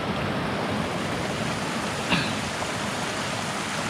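A small roadside waterfall on a woodland hiking trail in the Smoky Mountains pours steadily, a continuous broadband rush of water at close range with no voices.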